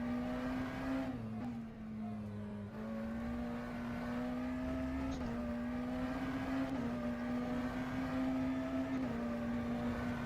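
McLaren Senna GTR race car in rFactor 2, its engine held in first gear, giving a loud, steady, buzzing drone with a strong harmonic stack that dips briefly and then holds almost flat throughout, with no talk over it.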